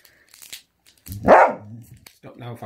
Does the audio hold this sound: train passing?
no